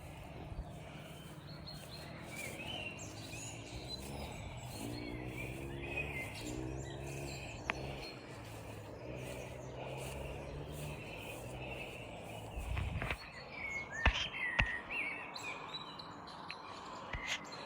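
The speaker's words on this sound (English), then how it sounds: "You can hear the birds singing" Birds chirp and twitter softly among trees in a glen near Dundrum Castle against a steady outdoor background, with a few sharper clicks near the end and no speech.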